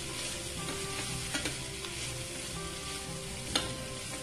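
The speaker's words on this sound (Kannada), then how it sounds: "ಈಗ ಲೋ ಫ್ಲೇಮ್ ಮಾಡ್ಕೊಂಡಿರೋಣ ಇದನ್ನ ಚೆನ್ನಾಗಿ ಮಿಕ್ಸ್ ಮಾಡ್ಕೊಳ್ಳೋಣ" Beans sabzi stirred in a pan on a low flame gives a soft, steady sizzle with occasional faint scrapes and clicks of the spoon against the pan.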